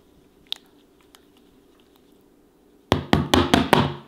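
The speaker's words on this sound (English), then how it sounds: "We're just gonna give this a shake, make sure they all get lathered up nice-like." Rabbit meat shaken with Frank's hot sauce in a container: after a few faint taps, a run of five loud rhythmic rattling thumps as the pieces slosh and knock inside.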